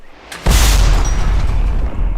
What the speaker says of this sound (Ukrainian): Виконую постріл я, дергаю за таку от шморгалку і відбувається бадабон